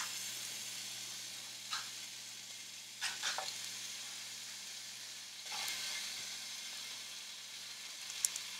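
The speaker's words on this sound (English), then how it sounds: "you want to make sure your bacon gets into the pan now first" Bacon sizzles steadily in a hot pan, a soft continuous hiss with a few brief louder crackles and pops, fairly faint and without talk.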